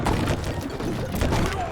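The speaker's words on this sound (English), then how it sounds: "Firework Archers taking shots." Firework archers and musket units fire in a strategy video game, a dense, rumbling barrage of overlapping booms and cracks with a voice talking over it.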